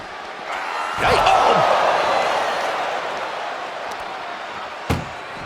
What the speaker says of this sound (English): Just trying to close one door.